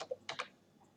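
A few quick keystrokes tap on a computer keyboard while a web address is entered in a browser, crisp clicks in two small clusters followed by quiet.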